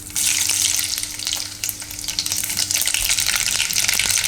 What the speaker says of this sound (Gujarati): તેલ આપણું હવે ગરમ થઈ ગયું છે. તો એમાં આપણે પહેલાં રાઈ નાખીશું.